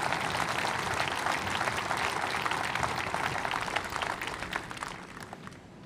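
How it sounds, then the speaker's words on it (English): Sustained audience applause at a lecture, a dense, even wash of many hands clapping at steady volume that gradually tapers off near the end. "So I think that really deserves a round of applause."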